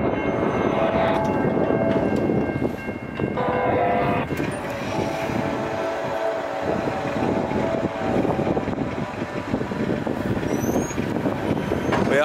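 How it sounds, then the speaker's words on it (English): Amtrak 95, an eastbound passenger train, rumbles past with a loud sustained roar and clattering wheels, its noise holding steady throughout, with a brief dip near the middle before the rush builds again. "That was Amtrak 95 headed east."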